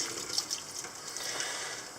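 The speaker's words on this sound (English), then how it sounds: "I'll give them a really, really good rinse." Live crawfish are rinsed under running water, a soft steady hiss of splashing flow with faint gurgles, close but quiet.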